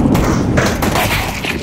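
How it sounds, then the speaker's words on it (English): A grenade explodes in the video game CS:GO, a loud, close, low boom and rumble that fills the short moment with dense, booming noise. "I'm throwing a grenade."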